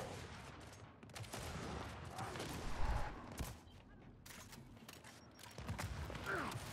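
Gunfire in the video game Gears 5 crackles in dense bursts amid continuous battle noise, with louder shots near the middle and quieter background action.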